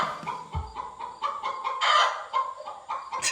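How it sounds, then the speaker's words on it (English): A hen clucks repeatedly in a loud, agitated run after laying an egg around the corner, with no voices over it. "Please excuse our chicken laying an egg around the corner."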